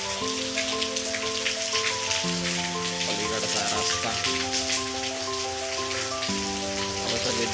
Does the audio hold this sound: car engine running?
no